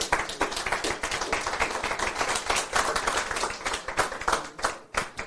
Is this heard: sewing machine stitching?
no